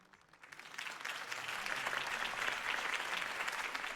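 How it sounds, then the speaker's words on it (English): Steady crowd applause in the video game Batman: The Telltale Series swells in after a brief quiet moment and holds at an even level, a dense wash of clapping. "could have heard that applause"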